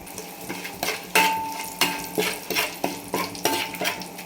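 Biryani spices such as shahjeera, nutmeg and mace frying in a pan of hot oil, with a spoon stirring and scraping in a steady rhythm of sharp clinks over a continuous sizzle.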